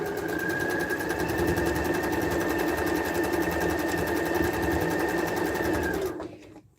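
Home sewing machine stitching through thick quilt seams, a steady fast mechanical whirring and rapid needle chatter running continuously and close, then stopping near the end.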